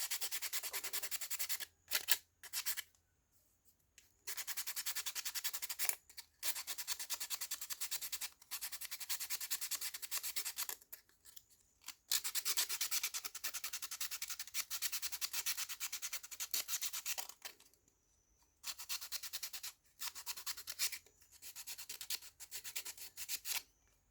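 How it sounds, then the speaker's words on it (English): Sandpaper rubs over the inner wooden surfaces of a slide picture puzzle box in steady, close scratching strokes, broken by several short pauses. "sand these inner surfaces nice and smooth"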